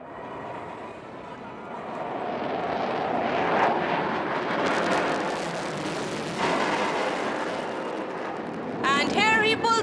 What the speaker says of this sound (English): the pilot will now execute a remarkable maneuver called the tail slide